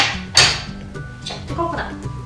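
A utensil knocks and scrapes in a pan while coconut is stirred and toasted, with a sharp clatter near the start and softer scraping after, close up, with a voice speaking faintly underneath.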